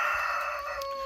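Cochin chickens and a rooster in a yard, with a rooster crowing up close over the soft clucking of the flock.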